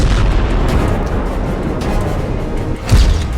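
Continuous deep rumbling blasts with heavy low-end booms, one louder thump near the end, like distant aerial bomb explosions rolling together, in the Russia-Ukraine war.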